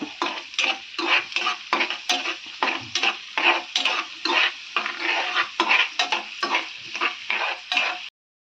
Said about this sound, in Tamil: இப்போ நல்லா பூண்டு வாசனை வருது. இந்த அளவுக்கு பொரிஞ்சால் போதும்.